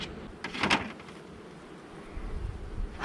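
Honey bees hum inside an opened, queenless and unhappy hive, a low steady buzz with a couple of brief louder swells close by.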